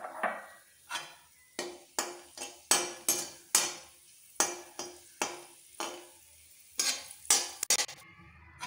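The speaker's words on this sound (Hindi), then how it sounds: "अब इसमें हम किशमिश डालकर भून लेंगे।" Raisins roast in ghee in a kadai for sabudana kheer, heard as a series of distinct spoon scrapes and metallic taps against the pan, about a dozen strokes in an uneven rhythm, close and fairly quiet, over faint sizzling.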